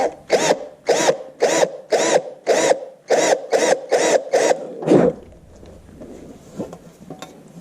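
A power drill bores in about ten short, loud, close bursts with brief pauses between them, during a Trans Go 2-3 shift kit install on a 700R4 transmission, then falls quiet with faint handling noise.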